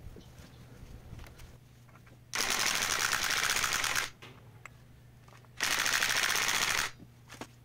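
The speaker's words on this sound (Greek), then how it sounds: "έτσι ώστε να το σφίξουμε με το ηλεκτρόκλειδο μετά" An electric impact wrench tightening a bolt on a Piaggio Beverly 300 scooter fires two loud, close rattling hammering bursts of about two seconds each, separated by a quieter pause with light workshop handling sounds.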